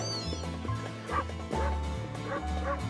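A dog barks in short bursts with a few higher yips, close and fairly loud, over busy background music.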